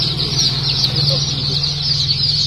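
Local domestic ducklings in Barpeta district chirp steadily in a close, constant high-pitched chorus, with a low hum running underneath.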